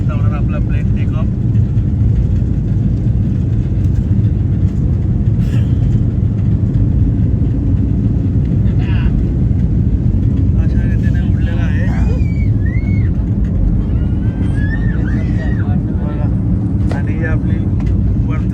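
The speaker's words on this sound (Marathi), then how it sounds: "आता होणार आपला प्लेन टेक ऑफ." A passenger airliner taking off from Mumbai on a flight to Thailand gives a loud, steady engine roar with deep rumble that holds throughout, heard from inside the cabin.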